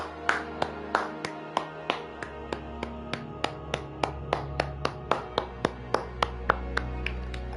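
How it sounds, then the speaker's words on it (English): Steady, evenly spaced hand claps from a gamer applauding after finishing Elden Ring, roughly two dozen sharp claps close to the microphone over a low background hum, with no talking. "give Miyazaki and the team a round of applause"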